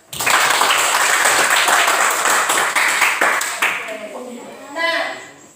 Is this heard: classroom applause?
yes